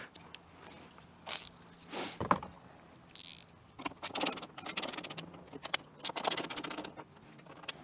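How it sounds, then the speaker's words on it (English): A 10mm wrench loosens headlight bolts on a Ford C-Max. Close, irregular metallic clicks, taps and rattles come in short clusters, with brief scraping bursts in between and no talking. "these are 10mm heads, so we're going to take these two bolts off"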